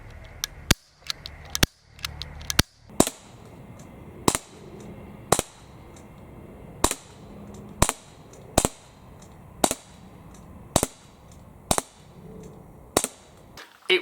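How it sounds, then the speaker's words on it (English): An Umarex Walther PDP Compact BB air pistol fires a long series of sharp, snappy shots at a brisk, slightly uneven pace, each crack loud and close with a quick fade. "bang, bang, bang, as quickly as you like for those 16 shots"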